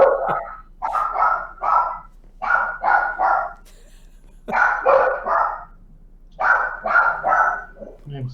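A dog barks loudly and close by in repeated bursts of two to four barks, separated by short quiet pauses, through the whole stretch.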